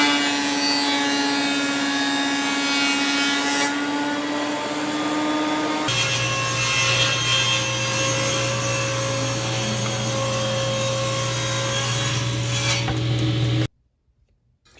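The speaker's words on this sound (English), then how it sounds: "So we're going to mill up some walnut." Walnut boards being milled for a jewelry box: a steady, loud machine whine with a rasping cutting texture, shifting pitch partway through, running continuously before stopping abruptly at the end.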